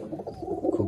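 A white Dobaj Mundi pigeon from an old bloodline coos close by, a continuous low rolling warble that pulses in uneven swells and grows slightly louder toward the end, with no talking over it.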